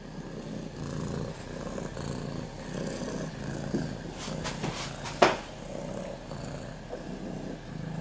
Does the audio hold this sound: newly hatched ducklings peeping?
no